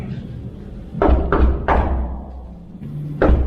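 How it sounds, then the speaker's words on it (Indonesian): Three distinct knocks on a locked door, evenly spaced and fairly loud, followed by a fourth thump a moment later, over a low steady room rumble. "Kita coba ketuk lagi 3 kali."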